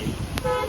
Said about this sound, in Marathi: कशी वाजते बघा गाडी